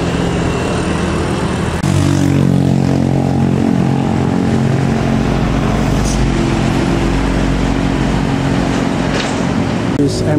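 An Isuzu Elf minibus travels along a road toward Bandung, its engine rumbling steadily and nearby with a low droning hum that stays fairly even from start to finish.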